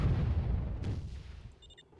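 A mortar firing in the real-time strategy game Warzone 2100, a deep rumbling boom that fades out over about two seconds, with a faint higher tone near the end.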